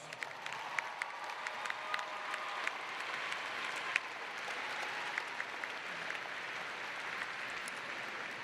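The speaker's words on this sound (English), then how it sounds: "Another round of applause." A large crowd at a fall university commencement ceremony applauds continuously, a broad even wash of clapping heard from some distance with a few crisp nearby claps scattered through it.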